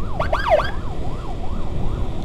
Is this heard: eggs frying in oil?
no